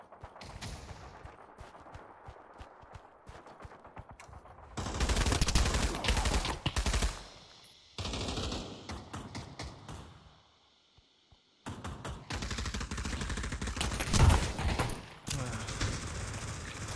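Gunfire in the Pavlov VR game on the Industry TDM and Dawnville TDM maps, rapid automatic bursts in long loud stretches with short gaps, one sharp louder crack near the end, a player talking intermittently.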